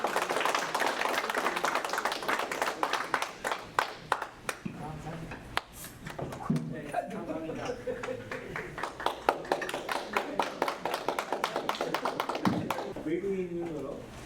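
Audience applause greets a professor taking the stage for a lecture on Korean unification at a Washington community event, a steady clatter of many hands clapping that carries on throughout, with voices talking over it in places.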